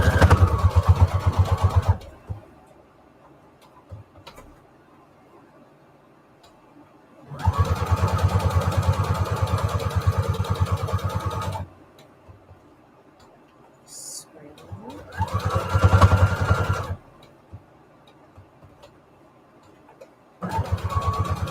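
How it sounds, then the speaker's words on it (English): A sewing machine running a straight stitch through layered fabric scraps in three bursts of a few seconds each, a close, rapid mechanical whir separated by quiet pauses. "now I'm going to go ahead and sew a big rectangle with a straight stitch"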